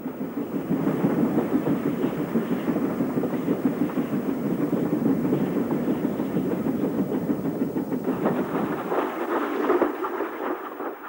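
Steam train hauled by Ivatt tank 41249 accelerating down a single line, a steady loud rumble of wheels and engine filling the whole stretch, easing into a lighter rhythmic clatter near the end.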